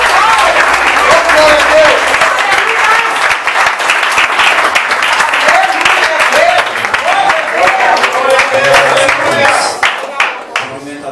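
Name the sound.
congregation applauding in church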